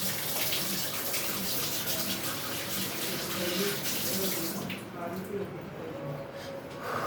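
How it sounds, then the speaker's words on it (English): Hands are washed under a running tap, a loud steady splash of water that lasts several seconds before easing slightly, with a person talking over it. "wash your hands for this because you are going to need your hand"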